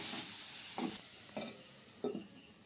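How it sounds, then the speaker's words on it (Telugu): Grated beetroot for halwa stirred in a pan gives a soft frying hiss, with three separate scraping strokes of a spoon spaced about half a second apart, quiet and close. "ఇప్పుడు ఇందులోనే మనం తురుముకున్న బీట్రూట్ వేసుకుందామండి ఇలా కలిపి ఒక టూ మినిట్స్ మగ్గించుకోండి"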